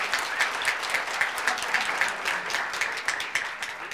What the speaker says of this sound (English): We're clapping for the Westminster Black Club because they're so fabulous